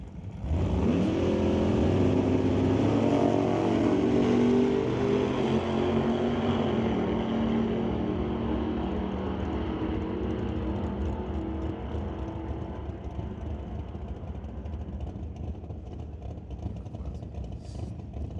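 Drag race cars, among them a 1969 Camaro nicknamed the Grinch, launch and roar down the strip in a Super Pro bracket race, loud engines at full throttle fading slightly as they pull away.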